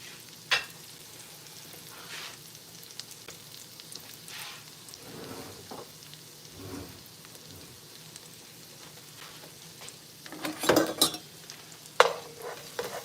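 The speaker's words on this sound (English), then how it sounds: "I'm gonna go ahead and put my garlic in first." Garlic sizzles in melted butter in a pan, a steady soft frying hiss with a few scrapes and clinks of a utensil stirring, louder clattering bursts near the end.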